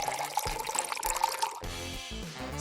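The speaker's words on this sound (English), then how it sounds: "Cover the mix with distilled water." Distilled water is poured over a coconut oil and children's shampoo mix in a container, a close liquid trickle and splash that shifts in tone partway through, with no talking.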